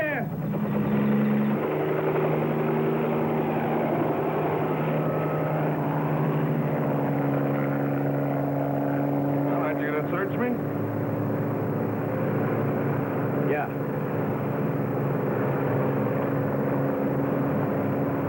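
A small airplane's engine drones steadily and continuously at close range, its propeller hum holding throughout. Muffled voices and rustling activity go on beneath it.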